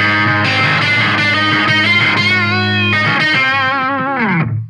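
Electric guitar through a Soundblox Pro Multiwave Distortion pedal on a mid-scooped EQ preset, loud sustained distorted chords with a buzzy, sitar-like filtered sweep, ending in a gliding bend that cuts off.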